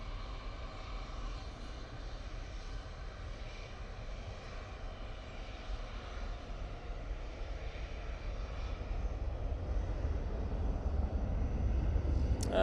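EasyJet airliner at Manchester Airport, a steady low engine roar that builds slowly toward the end, heard alone without speech.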